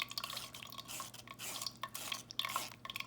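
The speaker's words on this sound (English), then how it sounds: "just secure your metal mesh strainer over a bowl and just gently stir, kind of push the seeds against the side" Sauce stirred through a metal mesh strainer set over a bowl, giving soft, quiet scraping and wet swishing strokes in an irregular rhythm, close and alone.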